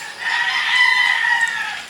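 A rooster gives one long, drawn-out crow, close and clear with no other sounds around it.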